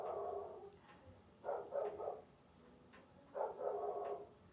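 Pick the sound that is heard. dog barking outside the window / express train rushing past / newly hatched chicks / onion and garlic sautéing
dog barking outside the window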